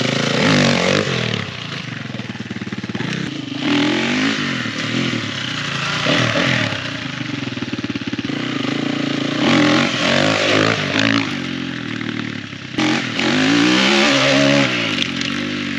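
A motorcycle revs hard and repeatedly at Queensland Motor Park while the rider tries a power slide, the engine note rising and falling in loud, close bursts with clattering underneath.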